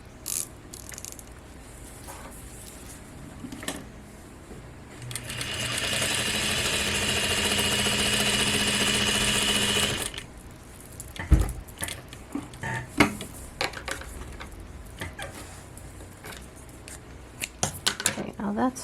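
A Juki DDL-8700 industrial sewing machine runs a steady burst of stitching for about five seconds, a dense even whir, followed by quieter clicks and handling sounds.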